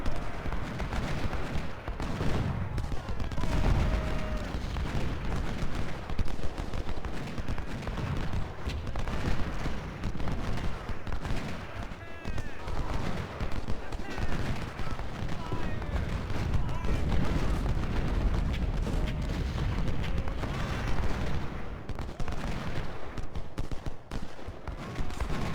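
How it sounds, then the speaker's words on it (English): Continuous rumble of cannon and musket volleys from a Civil War battle in Ultimate General: Civil War, with dense overlapping gunfire, distant booms and a speaking voice over it throughout. "He's going to shoot that gun."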